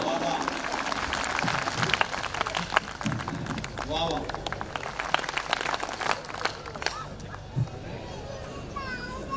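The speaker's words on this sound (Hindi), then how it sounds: "तालियां पूरे सदन की एक बार बज जाएं ताकि उनका मूड बन जाए" At a Hindi comedy poetry gathering, a crowd claps in scattered, uneven bursts amid chatter and hall commotion, with voices talking over the applause throughout.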